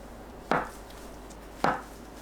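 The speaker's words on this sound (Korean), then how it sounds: "(1cm) 간격으로 썰어 준비합니다." Two crisp knife strokes through washed tofu on a cutting board, slicing it into 1 cm pieces, each a short sharp tap about a second apart in a quiet kitchen.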